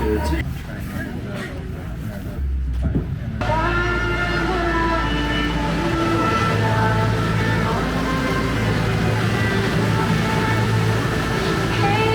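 The Flam Railway train running through the Norwegian fjord country, heard as a steady, loud rolling rumble with sustained tonal whine, under a faint murmur of voices.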